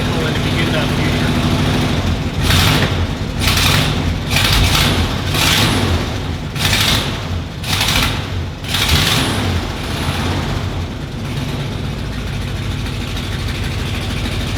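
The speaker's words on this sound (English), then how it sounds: "she's happy idling." Old Ford motorhome engine idling steadily with a low, rumbling drone, close by, with loud bursts of noise cutting in over it now and then.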